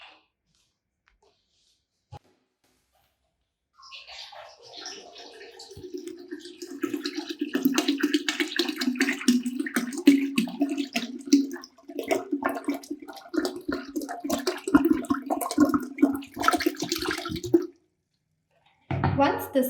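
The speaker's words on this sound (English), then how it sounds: "let me just pour some tap water in to increase the volume" Tap water pours steadily into brewing wort in a vessel, a continuous splashing gush running for more than ten seconds with a low resonant tone underneath, then stopping abruptly.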